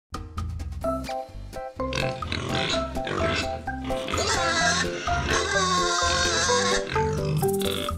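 Pig oinking in a children's farm animal sound piece, a run of grunting snorts mixed with upbeat background music.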